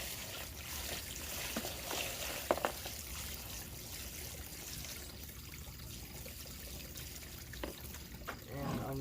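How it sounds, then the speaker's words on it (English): Water drains from an aquarium tank in a steady, faint trickling pour that runs continuously, with a few slightly louder splashes near the middle and end. "The water's actually quite a bit colder than this water, so I'm going to be draining some of this out."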